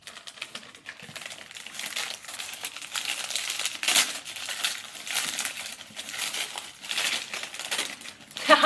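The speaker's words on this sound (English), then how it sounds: "at least I get to open another wrapping" Paper wrapping around a book is torn and crinkled close by, a steady run of rustling and crackling bursts with no one speaking.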